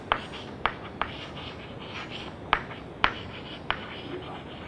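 Marker or pen writing on a board during a lecture: several soft, sharp scratchy strokes spaced irregularly over quiet room tone, with no talking.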